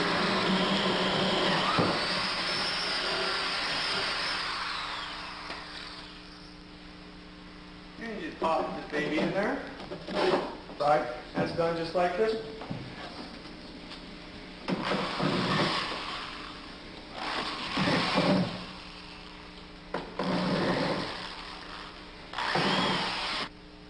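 A power tool trims an eye bolt to length on a Mini Drifter boat build, with a steady whine for the first several seconds, then repeated short loud bursts of cutting and grinding, close up.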